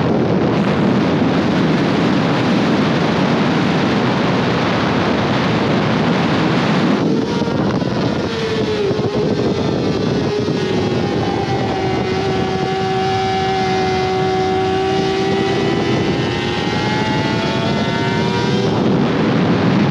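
A mostly stock Honda CBR 600R races down a track straight, its engine drone rising and falling in pitch beneath a loud, constant rush of wind noise.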